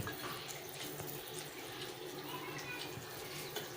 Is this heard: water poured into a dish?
yes